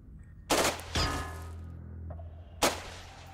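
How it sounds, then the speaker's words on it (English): A flying disc UFO in the Xenonauts strategy game fires through a building, producing sharp, loud bursts of gunfire: two quick blasts close together, then a third a moment later, each with a short ringing tail. "The flying disc is shooting through the building."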